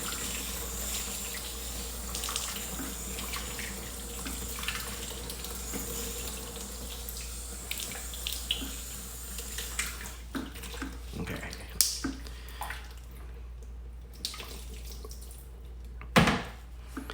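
Water rinsing ceramic-coated car panels runs as a steady close spray of hiss and splash, with a few louder splashes and clunks toward the end and no talk over it.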